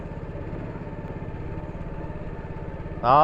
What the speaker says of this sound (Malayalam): ബോട്ടിൻ്റെ എൻജിൻ സ്റ്റാർട്ട് ചെയ്തു